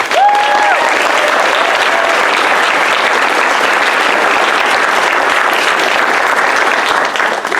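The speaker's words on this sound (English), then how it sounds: "I want everybody to give a round of applause for our illustrious competitors." Sustained applause from a large audience at a language competition, dense steady clapping throughout, with a brief whistle near the start.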